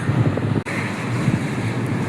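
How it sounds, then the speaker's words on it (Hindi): Cold wind blowing in the high mountains near Badrinath, a steady loud rush buffeting the microphone, with one brief dropout, and no speech. "चिल्ड हवा चल रही है एकदम।"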